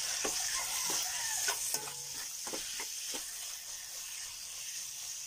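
Pork and browned garlic frying in a pan for Bicol Express, a steady sizzle with a spoon scraping and stirring in several quick strokes, close but fairly soft.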